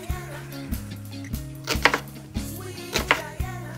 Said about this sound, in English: It's probably about a good tablespoon of finely chopped onion. So I'm gonna chop that up